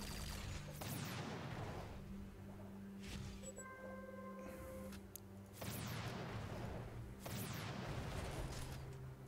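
Artillery fire in the strategy game Codex of Victory, three heavy booming salvos spread across the clip with rumbling decay, separated by quieter stretches of electronic interface tones and low background noise.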